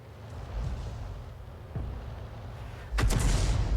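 Artillery guns fire in a World War II tank video game featuring the 105 leFH18B2 howitzer, with a sharp booming shot near the end over steady rumbling battle ambience and a fainter report earlier.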